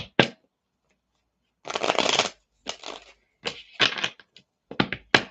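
Oracle cards being shuffled by hand, loud and close: a short riffle, a pause, then a long fluttering run followed by several shorter bursts of slapping card noise separated by brief silences.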